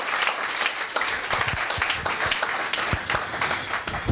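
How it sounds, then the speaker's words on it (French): A church congregation claps and applauds loudly in a steady, dense burst throughout, with some scattered cheering mixed in. "Applaudissez fort le Seigneur Jésus."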